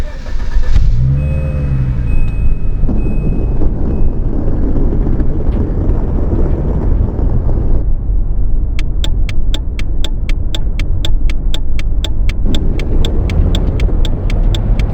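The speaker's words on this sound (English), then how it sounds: "Start your vehicle and take a right out of this parking lot" A car engine in a PlayStation 5 driving game starts up and pulls away from a parking lot, a loud steady rumble with rising revs, followed by a regular series of sharp repeating electronic ticks, with no talking.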